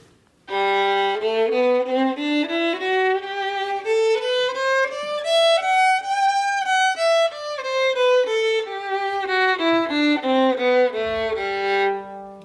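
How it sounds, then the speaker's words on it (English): A bowed violin plays a smooth ascending scale up into the high register, then descends back down, each note held briefly and sounding close and clear. "let me play a whole scale so you can hear the range of the violin"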